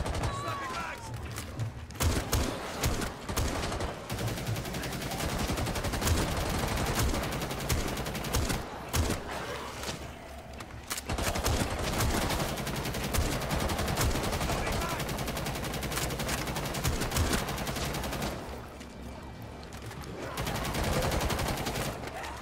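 Gunfire crackles through a zombie-outbreak mission in Rainbow Six Siege Outbreak, with bursts of rapid automatic fire repeating almost nonstop and brief lulls between loud, close volleys.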